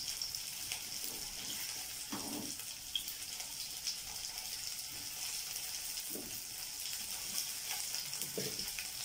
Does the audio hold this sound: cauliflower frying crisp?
yes